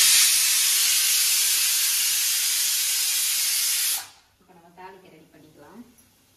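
Loud, continuous hiss of a pressure cooker venting steam, cutting off abruptly, followed by a person speaking nearby.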